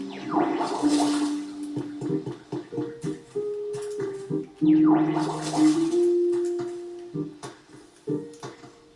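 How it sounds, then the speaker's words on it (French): Watering with water in the video game Pokémon Pokopia makes two gurgling, splashing bursts, each with bubbly tones, separated by short game chimes. "On va un peu arroser quand même."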